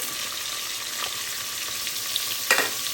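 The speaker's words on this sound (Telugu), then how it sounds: "ఇప్పుడు ఈ ఆనియన్స్ మనకి కొంచెం బ్రౌన్ కలర్ వచ్చేంత వరకు మనం దీన్ని ఫ్రై చేసుకోవాలి" Two onions frying in a pan for homemade mutton pulav give a steady, close sizzling hiss with soft scraping from stirring and a brief louder stir near the end.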